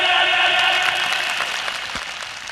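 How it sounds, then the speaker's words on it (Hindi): Loud, sustained applause and cheering from an audience at a live comedy show, fading slightly toward the end. "जोरदार तालियां"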